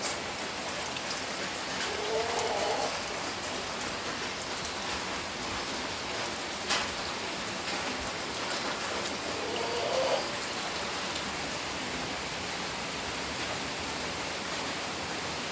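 Steady heavy rain pours down in a dense, continuous hiss, with a few louder drips and splashes standing out now and then.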